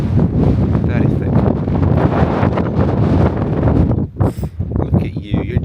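Wind buffeting the microphone on a hike up Ben Rinnes, a Scottish mountain, roaring steadily throughout, with a dog nearby and someone talking over it.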